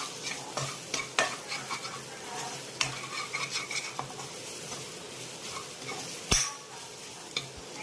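Spiced raw plantain and toor dal cooking in a pan with salt, a soft sizzle running under repeated scrapes and clinks of a spoon against the metal, several sharp knocks standing out.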